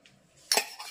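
A spoon stirring jaggery into raw buffalo milk in a metal pot, a short burst of scraping and clinking against the vessel after a quiet start, close and brief, no voices.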